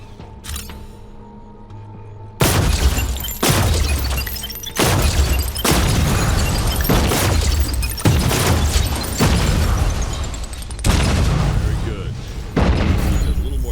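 Secondary fire from an agency gun in the VR game Defector, a string of loud booming blasts roughly every second, each with a crackling decay. A quiet hum comes before the first shot.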